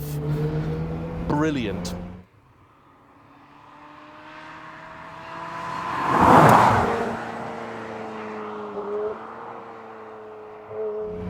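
A Ferrari 355 engine revs with its exhaust bypass valve open, a loud rising and falling roar that peaks sharply near the middle, preceded by a brief spoken word.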